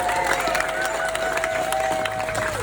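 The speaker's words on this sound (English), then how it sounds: "So let's have a round of applause for all those people." A protest crowd outside Defra, gathered against the badger cull, breaks into applause. Scattered clapping and crowd noise mix with voices and a sustained whistle-like tone that runs through most of the stretch.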